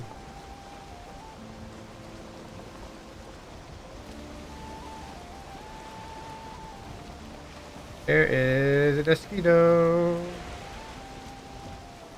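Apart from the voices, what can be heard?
rain in the video game Valheim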